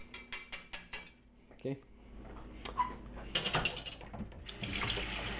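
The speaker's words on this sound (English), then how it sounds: "I do a dead center, whisk it out, and then whisk it into the rest" Roux whisked into a pot of chicken gumbo with potatoes and tomatoes, a run of quick metallic whisk clicks against the pot, then scraping and splashing stirring, close and fairly loud.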